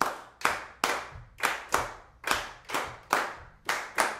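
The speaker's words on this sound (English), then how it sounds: "Can you all clap that for me?" An audience claps a Cuban rhythm together in unison during a piano workshop, about ten sharp, even group claps in a steady repeating pattern, close and clear with no talking.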